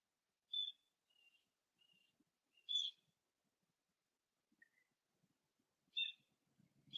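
Birds outside calling in short, bright whistled chirps, a few separated bursts and thin notes over near silence, faint and distant with some quiet low rustling toward the end.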